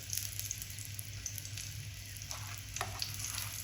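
Chicken pieces frying golden in a pan give off a steady, even sizzle with soft crackles, heard alone at moderate volume throughout.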